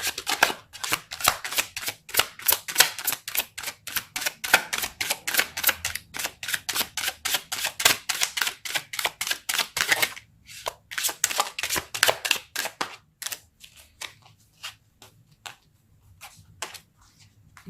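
Tarot cards are shuffled and pulled in a long run of rapid, crisp riffling flutters up close, then a few slower, separate card flicks and taps near the end, with no talking.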